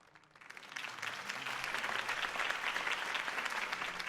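Crowd applause for Harvey Dent's campaign speech in the Batman Telltale video game, a dense wash of clapping that swells in over the first half second and holds steady and fairly loud to the end.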